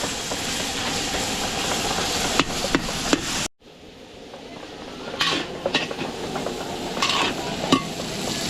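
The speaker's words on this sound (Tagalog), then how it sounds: "Ayun, nagigisa na po." Hotdog and ground meat sautéing in butter, garlic, onion and cooking oil in a large party-sized pan, a steady loud sizzle with scraping stirs, cutting out briefly before the frying hiss builds again with clinks of a utensil.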